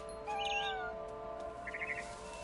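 A cat meows twice in the video game What Remains of Edith Finch: a drawn-out, bending mew followed by a shorter chirpy call, fairly faint over a steady hum of game ambience.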